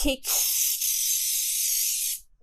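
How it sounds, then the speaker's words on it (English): A steady aerosol hiss of cooking spray sprayed into a baking pan, continuing for about two seconds, close and fairly loud, after a short initial burst. "you just want to make sure you spray the inside"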